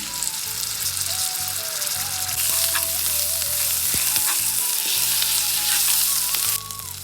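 Onion, green chilli and ginger paste frying in hot oil in a home kitchen pan, making a steady, loud, close sizzle that runs throughout, with brief stirring scrapes and a short spike partway through.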